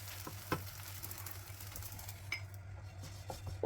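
A hotel-style layered maida paratha fries in oil on a pan with a soft, steady sizzle, broken by a few light clicks and pops.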